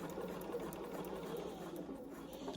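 A sewing machine stitching along a line on a foundation-pieced log cabin quilt block hums faintly and evenly at a distance, a soft continuous run with no voices.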